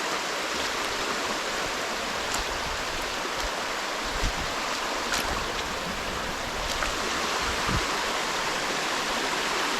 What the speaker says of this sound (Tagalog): Nagre-river cross na naman tayo.